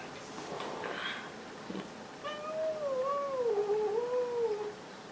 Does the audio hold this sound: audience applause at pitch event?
no